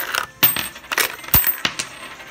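Coins clatter out of a little panda piggy bank as it is shaken, a series of sharp metallic jingles and drops in irregular bursts, close and fairly loud with no talking.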